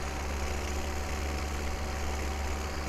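A tractor engine idles steadily during a potato harvest, a continuous low rumbling drone with a constant throb, close and even throughout with no voices.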